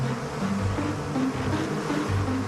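Honeybees buzzing around their nest, a dense continuous hum of many wings at close range, steady and unbroken throughout.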